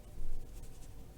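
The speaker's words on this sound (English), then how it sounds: "let me write it here" Marker or chalk strokes on a board during a math lecture on Fourier cosine series, a brief scratchy burst of writing followed by lighter continued strokes, fairly close, with no speech.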